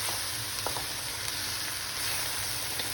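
Carrot sticks sizzle as they fry in a pan with other vegetables, a steady broad hiss with a few soft stirring knocks throughout, close and even, no voices.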